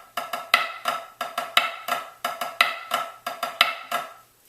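A snare drum plays the third grouping of the Flam Drag Grid, crisp flams and drags in a steady triplet pattern with the accent falling on the third partial, heard close and alone.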